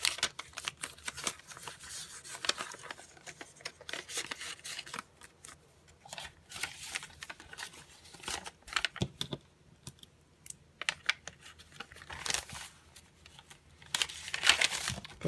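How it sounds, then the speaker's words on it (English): Vintage writing paper in a handmade junk journal is handled close up, with intermittent quiet rustles, crinkles and sharp paper taps and flicks, and no talk. "And inside I have some vintage writing paper."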